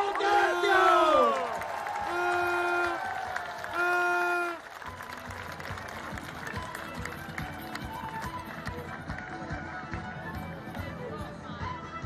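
Rally crowd at Pontida 2008 applauding and cheering for Mario Borghezio, a loud wash of clapping and shouts with chanting voices and amplified tones early on, settling into steady dense applause.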